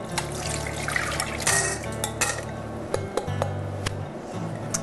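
Soaked arame seaweed is strained, with water splashing and trickling steadily from a sink tap or strainer. A few sharp clinks and drips sound up close, and no one speaks.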